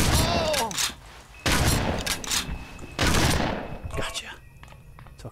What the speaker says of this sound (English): Took all of my shots, but I got him.